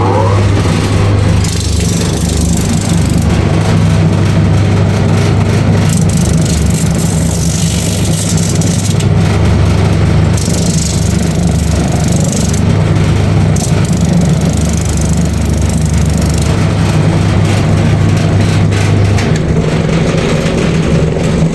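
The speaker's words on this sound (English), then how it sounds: "We're gonna grind this part so that it can be flat like." A grinding machine flattens a handmade sneaker part in a South African workshop, giving a loud, steady motor drone with a constant low hum that runs unbroken for the whole stretch, no talk over it.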